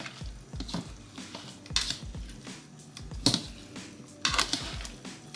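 Metal tongs toss and stir a pasta salad dressed with lemon, olive oil, salt and pepper, giving close, uneven clicks, scrapes and wet squelches in irregular bursts with no talking.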